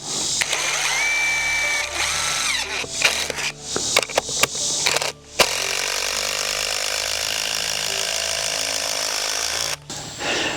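A DeWALT cordless drill drives a small deck screw into wood, its motor whirring in several short bursts and then one long run with some brief ratcheting, loud and close with no talking.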